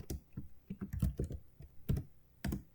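Typing on a computer keyboard while entering names for a family history indexing task, with irregular bursts of close, crisp key clicks separated by short pauses, alone without talk.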